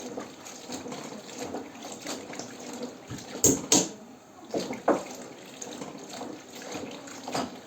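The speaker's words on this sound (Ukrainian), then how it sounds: "І це все добре мию." Running water splashes steadily close by, with a few sharper sloshes and knocks as fruit is rinsed and moved around in it.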